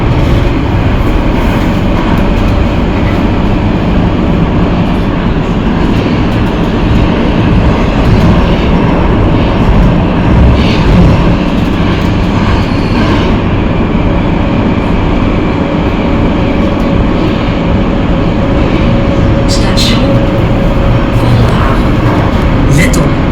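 A Rotterdam metro train rumbles steadily along the track between stations, a continuous loud low-heavy roar with faint rattles throughout, while a voice speaks over it.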